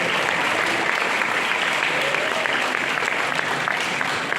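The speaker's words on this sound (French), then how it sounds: "On applaudissez là encore une fois" Steady applause from a crowd, dense and sustained clapping at close range for the full duration.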